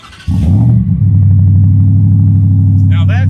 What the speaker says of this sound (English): Gotta love the V8s